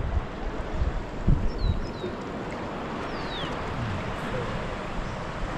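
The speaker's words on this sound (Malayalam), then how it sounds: "വഞ്ചിക്കാരൻ ബോട്ട് തുഴയുന്ന കാണാൻ നല്ല രസമായിരുന്നു." A boatman rows a small boat on a river near Mekedatu. Oars splash softly a few times against steady rushing water and light wind, with no voices.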